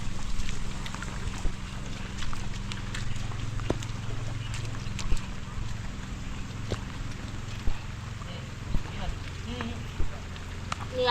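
Heavy rain sets in over rural Konkan, a dense steady hiss of drops on surfaces with occasional sharper splats and knocks, and a low background hum beneath.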